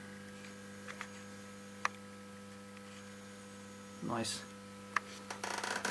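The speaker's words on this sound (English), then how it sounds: "AC hum, which you can hear there." Steady AC mains hum from a high-voltage power supply running at about 2.7 kV for an RF amplifier, a constant low drone under a few small clicks and a brief spoken word.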